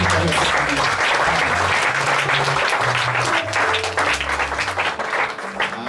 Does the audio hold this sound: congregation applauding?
yes